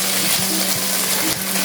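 Shrimp paste and egg being stirred in a hot frying pan, a close sizzle with scraping strokes of a spatula, brief and steady without talk.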